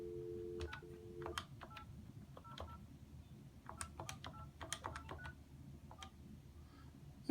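DTMF keypad tones from an Avaya 9608 office phone, a series of short dialing beeps in quick irregular groups with a couple of longer tones at the start, heard close over a low room hum.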